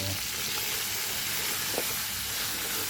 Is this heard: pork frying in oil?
yes